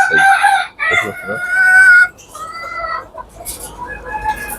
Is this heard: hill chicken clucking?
yes